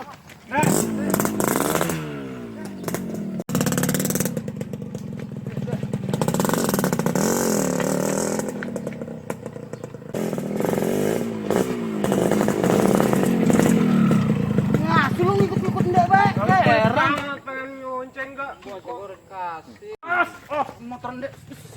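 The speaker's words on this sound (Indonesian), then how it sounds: "Jalan-jalan dong motor baru ini" A new motorcycle's engine revs loudly and steadily at close range for most of the stretch, then drops away as people talk over it.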